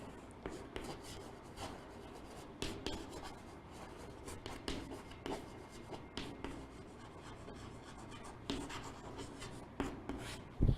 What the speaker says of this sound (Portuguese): Eu vou escrever aqui para a gente se localizar melhor.